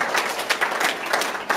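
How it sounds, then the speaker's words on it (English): A crowd claps in a dense, continuous burst of applause. "Let's give them another round of applause."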